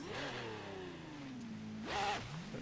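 A Gurkha vehicle's engine revs in reverse in a driving video game, its pitch sliding steadily downward and then surging sharply upward near the end. The engine drones alone and close, with no talking.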